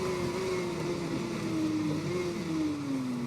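A 2019 Yamaha racing motorbike in the TT Isle of Man 2 game holds a loud, steady high-revving engine whine, pitch sagging slightly as it eases off, with no talk over it.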